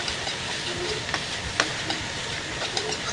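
Tofu sisig being stir-fried with oyster sauce and chili, a steady sizzle in a hot pan with light scrapes and stirring clatters, close and continuous, no talking.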